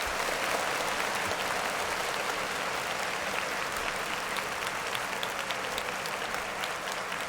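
Steady crowd applause, a dense continuous wash of many hands clapping at moderate distance, unbroken for several seconds with no speech over it.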